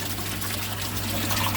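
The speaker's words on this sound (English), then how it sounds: "I've just had to get the water circulating." Water being flushed and circulated through a garden pond system, a steady loud gushing rush with a constant low pump hum underneath.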